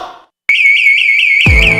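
A security alarm from a radio advertisement for an alarm company sounds a loud, sustained electronic tone that warbles steadily for over a second after a brief pause, with a low thump entering near the end.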